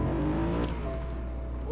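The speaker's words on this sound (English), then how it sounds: "But listen to the engine." Fastest car in the video game Just Cause revving and accelerating, a steady engine roar with rising tones, loud and close throughout with no talk.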